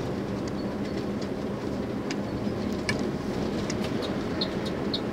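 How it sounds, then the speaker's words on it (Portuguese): A truck's engine brake working hard on a steep mining-highway descent, giving a steady, loud low rumble and roar that runs for the whole stretch with wind noise over it and no talking. "Já acionei aqui o freio motor."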